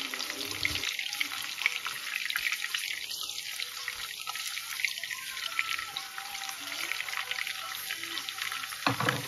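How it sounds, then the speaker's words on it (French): Onion rings, sliced into rounds, fry in a pan, a constant bright sizzle with occasional stirring clatter and a few faint low sounds in the background. "je mets les oignons coupés en rondelles."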